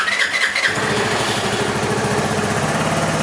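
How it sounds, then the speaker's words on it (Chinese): A motorcycle with a fuel-injection system, troubled by stalling after high-speed riding, cranks briefly and then catches, settling into a steady, loud, close idle with a rhythmic engine throb. "然后我们现在去做一个发动的动作"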